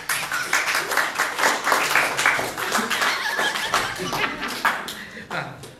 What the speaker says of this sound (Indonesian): Kasih tepuk tangan dari ngantuk.